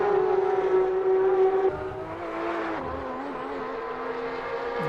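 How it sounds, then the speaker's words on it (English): Porsche race car in a multiclass racing video game, a loud steady engine drone with a sustained tone that drops in pitch partway through as the car lifts off, continuing at a lower, slightly wavering pitch. "You can hear a car in front also not having a great time."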